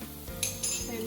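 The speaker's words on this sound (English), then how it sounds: "Give it a quick stir." A spoon scrapes and clinks against a pan while stirring pizza sauce, giving a few short metallic taps and a brief stir that is close and fairly quiet.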